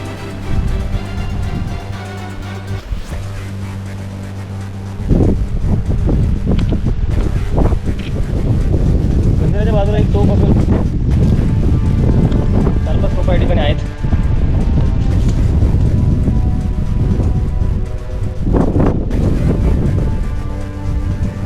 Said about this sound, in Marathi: मोठ्या प्रमाणात हवा आहे चालना देखील या ठिकाणी आता मुश्किल झालेलं आहे